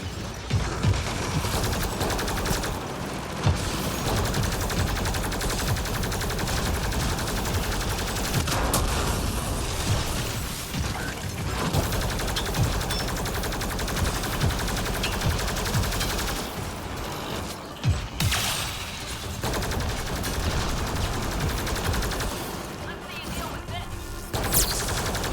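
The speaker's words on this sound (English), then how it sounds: "Yes, Lonnie, I am shooting." Dense, sustained gunfire from a Mass Effect Andromeda firefight, rapid overlapping bursts and heavy impacts hammering on with barely a break, loud and close, with voices talking now and then underneath.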